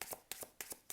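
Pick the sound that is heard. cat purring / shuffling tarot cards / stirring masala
shuffling tarot cards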